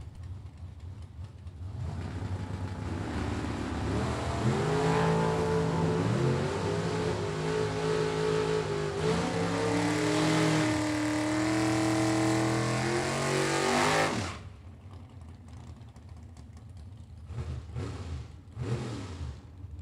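Dragsters launching down a drag strip at a World Super Pro Challenge race, with a loud, rising engine roar that builds over about twelve seconds and then drops away, leaving fainter distant engine noise.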